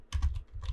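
Quick bursts of typing on a computer keyboard, a few close keystroke clusters in under a second with a brief pause between them, no voices present.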